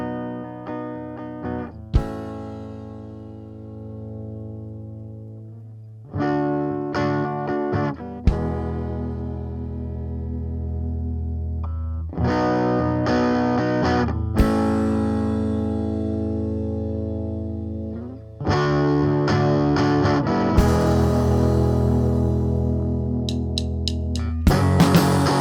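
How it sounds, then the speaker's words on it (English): Electric guitar played through a Supercool Cutback pedal in low-gain mode with the drive turned down and the EQ raised slightly, pushing the amp into natural breakup; sustained chords and short riffs ring out loudly with no talking. "let's turn the drive all the way down on the low gain mode and pop our EQ knobs just up a little bit to help overdrive our amp for a natural breakup sound"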